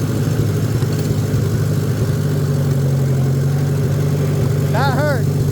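A car engine runs in second gear with a steady, fairly loud mid-low drone that holds evenly throughout, with a brief warbling chirp near the end.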